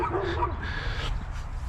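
Two dogs bark and yip in short excited bursts near a car being loaded with an air conditioner, with people talking and a low rumble underneath.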